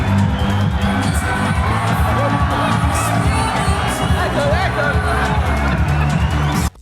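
A packed boxing arena crowd roars loudly and continuously throughout, a dense, sustained wall of voices with shouts and whoops, booing at a cocky fighter who stared down and taunted his opponent before the bout.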